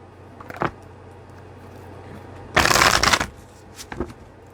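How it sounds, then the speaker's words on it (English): Deck of tarot cards riffled in one loud, close shuffle lasting under a second, with softer card taps before and after. "let's cut the deck here"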